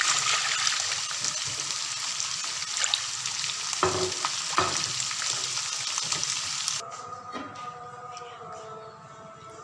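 Yakhni stock goes into a pan of sizzling fried chicken; a dense frying hiss with stirring knocks settles into a quieter, softer bubbling after the liquid is added.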